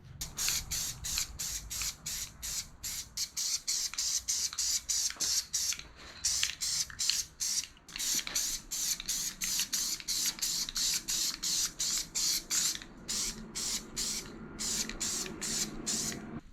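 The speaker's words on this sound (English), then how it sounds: "I'm going to chuck on a final coat, a wet coat of the black." Short rhythmic bursts of spray paint hiss as a final wet coat of black goes onto a gauge pod, repeated presses with brief gaps between them, close and steady.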